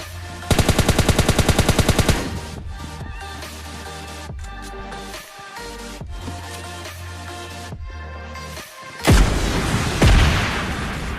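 Rapid automatic gunfire bursts from the PUBG Lite battle royale game, a dense burst of shots at the start, then game music and effects, and a loud boom-like blast near the end.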